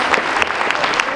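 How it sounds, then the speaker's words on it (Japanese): A room full of guests claps at the World Amateur Go Championship reception party in Tokyo, with individual claps standing out sharply within a steady, close burst of applause. "今一度盛大な拍手をお願いいたします。"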